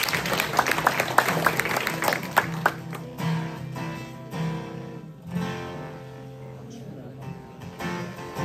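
An audience at an evening concert in 2025 claps warmly, a dense burst of applause that fades into scattered clapping, while people keep chatting over it.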